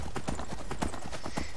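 A horse trots in the Skyrim video game, its hooves clip-clopping in a quick, steady rhythm, close and loud.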